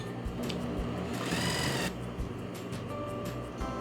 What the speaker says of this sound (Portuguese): Aí eu vou costurar.